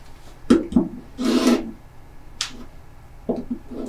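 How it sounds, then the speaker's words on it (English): A rotary cutter slices a fabric strip along a Creative Grids 60 degree tiny diamond quilting ruler, making a few short close scraping cuts and a longer rasping stroke, heard alone with brief soft taps between. "make a clean cut here."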